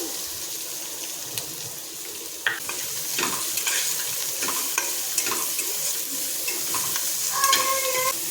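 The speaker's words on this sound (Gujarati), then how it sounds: "ડુંગળીને આપણે થોડી સતળાવા દેવાની છે" Finely chopped onion with curry leaves frying in hot oil for dal tadka, a steady bright sizzle running throughout with occasional scrapes and clinks of a stirring spoon.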